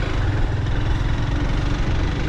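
A motorcycle engine runs steadily on a hill road through teak plantation country in Khagrachari, a continuous mid-low drone that stays close and fairly loud with no talk over it.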